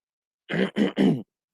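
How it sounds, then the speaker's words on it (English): A person clears their throat three times in quick succession, close and loud, with silence before and after. "Apologies for clearing my throat on the stream."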